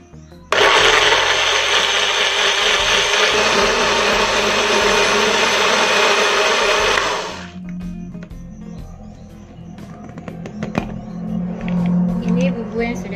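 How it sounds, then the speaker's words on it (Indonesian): A blender whirs loudly and steadily for about seven seconds blending spice paste with a little water, then stops, leaving quieter kitchen clatter and a voice afterward. "Langsung saja kita blender."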